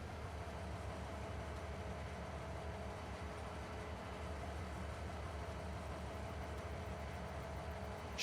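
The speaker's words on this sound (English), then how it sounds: "Should be able to hold this all on this train here, I would think." A freight train in the farming game Farming Simulator 22 rumbles steadily and continuously, a dense, constant rolling roar with a low hum and no talk over it.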